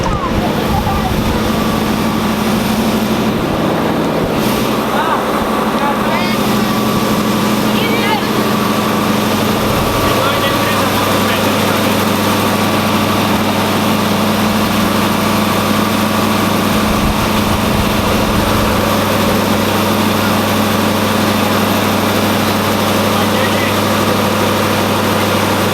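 Large farm engines of 16 litres displacement idle together in a steady, loud, low droning rumble that holds unbroken throughout, while voices speak over the noise.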